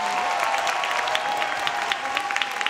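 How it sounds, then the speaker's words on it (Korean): Steady applause from a crowd, continuous clapping at moderate volume throughout, with no talking over it. "박수 부탁드립니다."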